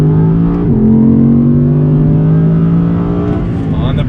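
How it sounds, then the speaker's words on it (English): A 2020 Audi R8 V10 engine pulls hard under full throttle, its loud steady drone holding a rising pitch, with a brief dip as it shifts near the start and a swell late on; a voice talks over it. "once again, on throttle,"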